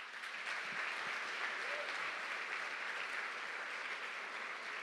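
A church congregation applauds, dense and steady clapping from many hands holding at an even level throughout.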